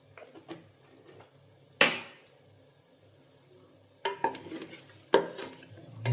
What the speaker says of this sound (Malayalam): ഇളക്കുക.